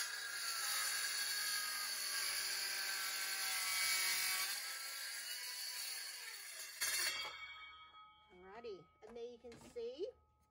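A circular saw makes a fresh 45-degree mitre cut through timber, a loud broadband whine that runs for several seconds and then stops abruptly, followed by a short spell of speech.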